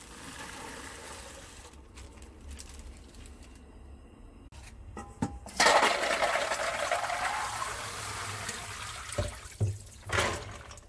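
A batch of cashew nuts being washed in water: quiet trickling at first, then a sudden louder surge of running, splashing water that swells and ebbs, with a few sharp knocks near the end and no talking.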